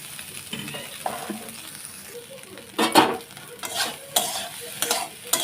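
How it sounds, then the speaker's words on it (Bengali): Soybean chunks frying in oil in a pan, a soft low sizzle with irregular stirring scrapes and light clinks that grow louder in the second half, close and without talk. "একটু ভালো করে ভেজে নেব সোয়াবিনটা"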